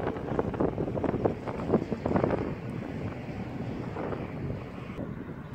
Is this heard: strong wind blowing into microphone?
yes